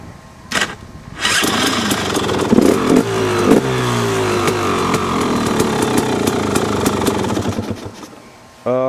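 A KTM motorcycle fitted with a stock aluminum 50-tooth rear sprocket on its original battery cranks briefly, then fires up and runs with a loud, buzzing idle and a few revs before cutting off near the end.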